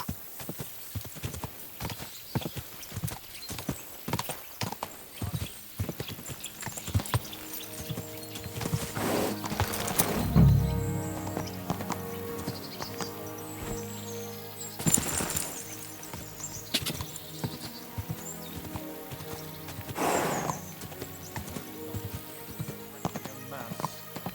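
Rhythmic hoofbeats clip-clop steadily throughout, with a horse whinnying, over game music and occasional voices, in Kingdom Come: Deliverance II.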